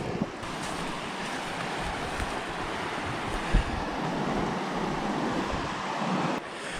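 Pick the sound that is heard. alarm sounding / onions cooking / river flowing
river flowing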